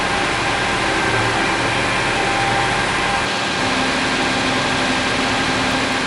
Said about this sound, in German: Wenn man mit den Arbeiten beginnen möchte, kann unser Modell mit der Taste F18 automatisch in die Arbeitsstellung fahren.